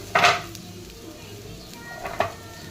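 A spatula scrapes and clatters twice against a pan while onion, tomato, ginger and green chilies are sautéed for a chicken gravy, with a faint sizzle between the stirs.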